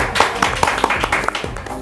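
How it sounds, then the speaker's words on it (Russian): Applause for a leading actress of the Tatar State Academic Theatre on an online talent show, steady close clapping with sharp individual claps above a faint tonal background. "Аплодисменты!"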